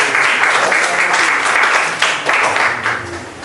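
A classroom breaks into sustained applause for a student, many hands clapping densely and steadily at close range for several seconds, with a few faint voices mixed in.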